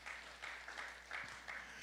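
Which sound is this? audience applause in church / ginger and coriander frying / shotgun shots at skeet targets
audience applause in church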